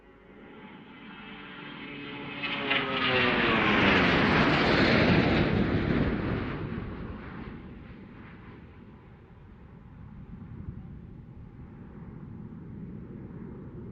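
A Boeing 757 of No. 40 Squadron, Royal New Zealand Air Force, roars overhead on a final fast pass at an air show, swelling to a loud jet rush with a sweeping pitch shift, then fading into a lingering climb-out rumble.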